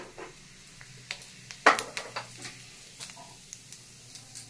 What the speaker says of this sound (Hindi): अब मैं इसमें सरसों का तेल डाल देती हूँ। एक चम्मच जीरा का फोड़न डाल देती हूँ।